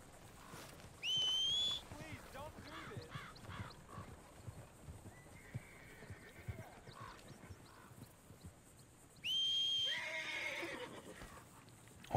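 A horse in the video game Red Dead Redemption 2 whinnies twice, a rising-then-falling neigh near the start and another near the end, over soft clip-clop of hooves and quiet ambient outdoor sound.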